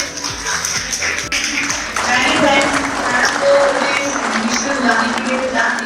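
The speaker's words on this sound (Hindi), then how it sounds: "एक बार जोरदार तालियां मैम के लिए" Applause and scattered clapping from an audience at an art event, a busy, noisy crowd sound that swells after the first couple of seconds, with voices murmuring throughout.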